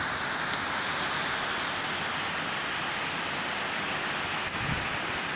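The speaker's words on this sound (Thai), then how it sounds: "ลมแรงมากเลยครับฝนฟ้าคะนองครับ" Heavy rain pours in a thunderstorm with strong wind in Buriram, Thailand: a dense, loud, steady roar of drops and gusts that runs unbroken, with no voices.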